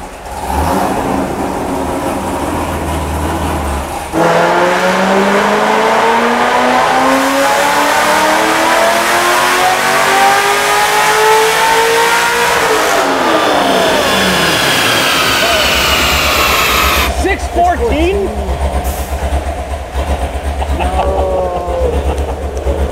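A Corvette Z06 engine roars at full throttle on a dyno, its pitch climbing steadily through several gear-like rises over about twenty seconds, loud and close, and ends in a falling note as it comes off throttle.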